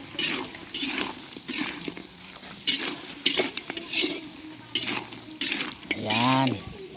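Goat meat sizzles and fries in a pan as a utensil stirs and scrapes it in repeated strokes, close up, with metal clinks and a short pan squeal near the end.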